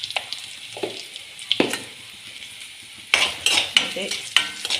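Turmeric powder stirred into hot frying oil in a home kitchen, giving a soft sizzle with spoon scrapes against the pan, louder bursts of stirring in the second half, no speech.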